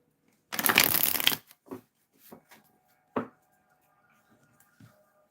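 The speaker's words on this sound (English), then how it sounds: "feel like I need to shuffle" A quick riffle shuffle of a tarot deck, a dense papery flutter for under a second, followed by several soft taps and small squaring clicks.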